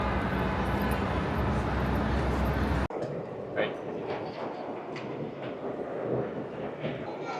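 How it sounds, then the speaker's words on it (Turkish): Trains run through New York's central train station; a loud rumbling rail roar cuts off abruptly partway through, then a quieter reverberant hall with scattered clatter and faint voices follows. "New York'ta merkez tren istasyonundayız."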